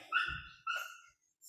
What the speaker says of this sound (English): My dog is crying from the window.